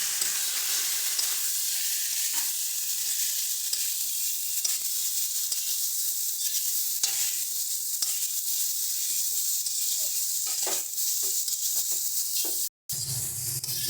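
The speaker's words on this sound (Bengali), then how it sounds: "এর মধ্যে এবার সিদ্ধ করে রাখা গাটি কচু আর আলুটা দিই" Boiled taro corms and potato sautéing in a pan, a steady loud sizzle and crackle of frying with occasional stirring scrapes throughout, briefly cutting out near the end.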